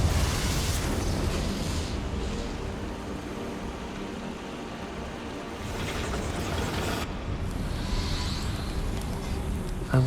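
A Confringo explosion spell in Hogwarts Legacy produces a sustained, roaring burst that fills the mix with dense rumbling noise, swelling and flaring again partway through.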